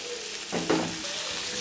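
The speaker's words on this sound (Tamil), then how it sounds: "இப்போ தக்காளி ஆட் பண்ணிடலாம்." Chopped tomatoes tipped into hot oil for a potato gravy, giving a brief burst of sizzling frying that swells then settles into a soft steady hiss.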